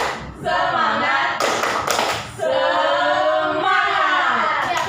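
A grade 5 class claps out the rhythmic 'tepuk semangat' cheer in a classroom, with brief, crisp bursts of many hands clapping between loud, sustained group chants from the pupils.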